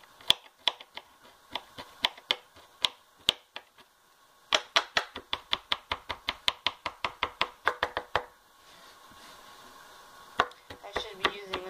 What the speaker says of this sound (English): So you want to chop it up as small as you can.